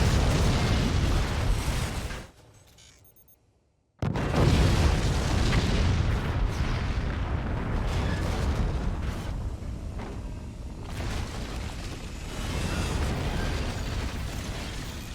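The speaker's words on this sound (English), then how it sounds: "the standard response to mortars like this" Mortar shells burst in the physics-based strategy game Forts, a dense, continuous rumble of booms and crashes that drops away for about two seconds before resuming at full force.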